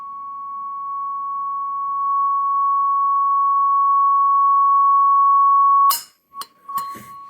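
A slightly damped resonating tube gives a steady, pure ringing tone that holds for about six seconds, then cuts off abruptly into a few short clinks and taps.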